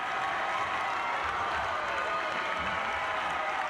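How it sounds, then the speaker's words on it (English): A crowd at a high school boys basketball game between Upper Dauphin and Line Mountain/Pine Grove reacts to a foul call with a continuous, dense roar of voices and clapping filling the gym. "Again, the crowd reacting over here to every foul."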